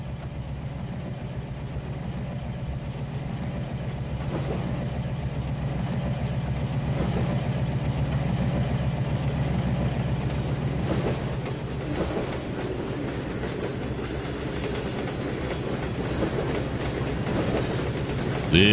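A train in the video game Trainz 2019 rumbles past steadily at close range, a low continuous roar with a faint rhythmic clatter of wheels throughout.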